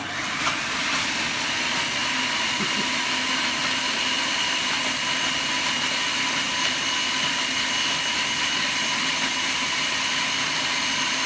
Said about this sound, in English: Gonna put my blender on.